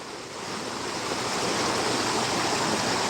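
A river near a cabin in Townsend, Tennessee flows with a steady broadband rush that swells slightly at the start, then holds constant and close with no voices.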